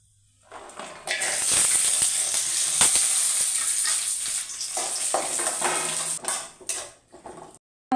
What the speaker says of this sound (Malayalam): നമുക്ക് ആദ്യം ഈ മുന്തിരിങ്ങയും അണ്ടിപ്പരിപ്പും കൂടെ ഒന്ന് വഴറ്റിയെടുക്കാം.